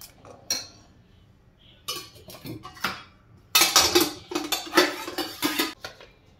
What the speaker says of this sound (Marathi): साखर, जिरा पावडर, हे व्यवस्थित हलवून घेऊयात।